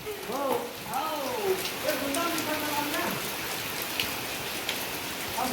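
Heavy monsoon rain pours steadily on surfaces during a cricket game in the Konkan, a constant hiss throughout while a voice speaks over the start.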